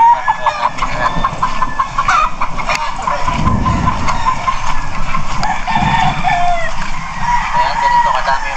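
Farm chickens cluck and a rooster crows, a busy flock heard close by with rustling and a voice speaking among them.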